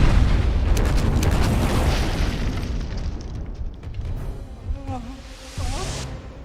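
Volcano eruption effects from the disaster film 2012: a heavy, rolling boom and rumble that slowly fades over several seconds, followed by faint whooshing debris and a brief, distant voice-like warble near the end.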